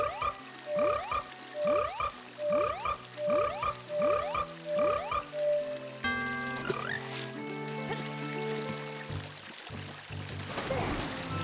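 Rhythmic frog croaks in Zelda: Ocarina of Time, a row of rising croaking notes repeating about once per second, then giving way to brighter musical tones and splashy water-like sounds.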